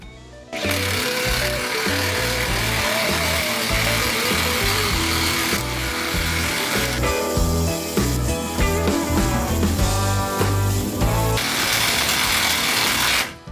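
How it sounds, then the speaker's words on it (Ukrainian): An ELTOS hybrid impact driver on first speed drives a 300 mm structural screw, rattling loudly and continuously with rapid hammering impacts, close up for over ten seconds. "Давайте попробуємо як справитися з конструкційним е, саморізом 300 мм. Перша швидкість."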